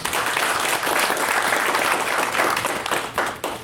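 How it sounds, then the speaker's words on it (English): Audience applause at a professional engineering event, steady dense clapping filling the room for several seconds before tapering off near the end. "So let's give them a round of applause."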